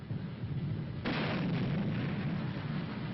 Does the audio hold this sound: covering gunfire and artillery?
yes